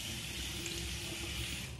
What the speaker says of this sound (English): Use warm water to wash it off